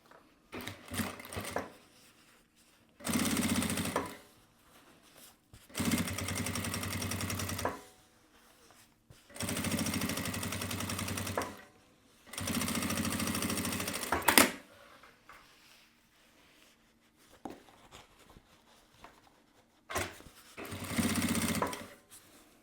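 A sewing machine topstitches a fabric lining in several separate bursts of rapid mechanical chatter, each lasting a couple of seconds and broken by quiet pauses, with faint handling noise between runs.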